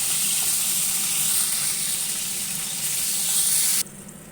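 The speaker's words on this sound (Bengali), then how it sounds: "এবারে খুব ভালো করে পটলগুলোকে ভেজে নিচ্ছি" Pieces of pointed gourd (potol) fry in hot oil with a steady, loud sizzling hiss that cuts off abruptly near the end, leaving only faint background.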